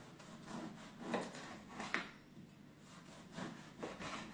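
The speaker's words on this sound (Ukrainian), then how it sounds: "Хлібець так одріжемо." A knife saws through a loaf of bread in several quiet back-and-forth strokes, faint and close by.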